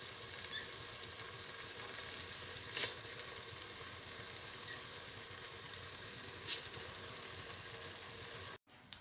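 A cup of washed, soaked rice fries in a pan with the rest of a spiced mixture, a quiet, even sizzle broken by two brief utensil clinks.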